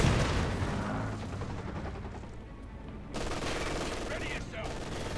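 MG42 machine gun fire in a Company of Heroes 2 battle, with dense rattling bursts over a continuous din of combat noise and a brief lull near the middle before the firing resumes.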